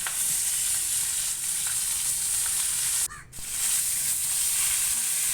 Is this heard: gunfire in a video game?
no